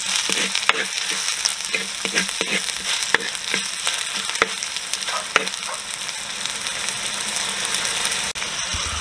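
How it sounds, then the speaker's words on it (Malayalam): Crushed shallots being stirred into onions frying in a pan, a steady close sizzle broken by repeated scrapes and clicks of the spoon against the pan, with no voices. "ഇനി അതിലേക്ക് നമ്മൾ നേരത്തെ എടുത്ത് വെച്ചിരുന്ന ചെറിയ ഉള്ളി ചതച്ചത്, അതും നല്ലതുപോലെ ഒന്ന് ഇളക്കി കൊടുക്കണം."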